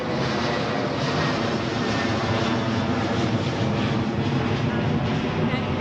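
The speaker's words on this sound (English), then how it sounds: "We'll just wait for that plane." An airplane flies low overhead in Tempe, a loud, steady engine roar that fills the whole stretch without fading, with voices faintly underneath.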